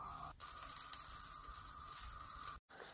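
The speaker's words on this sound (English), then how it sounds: "I'm going to add a nice big knob of butter to my pan" A big knob of butter melting in a pan over medium-low heat, giving a soft, steady sizzle with a faint high whine, close and quiet, broken by a short gap near the end.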